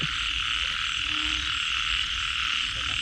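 Big frogs heavy with eggs croak in a dense chorus across a rice field during heavy rain, a loud continuous massed trilling that fills the whole stretch with no talking.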